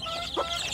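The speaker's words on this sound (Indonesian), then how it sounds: "anak ayam kampung ini berasal dari 4 indukan ayam kampung yang menetas" Free-range village chicks (ayam kampung), hatched together from four hens, give a single short cluck, quick and fairly close, over a quiet background.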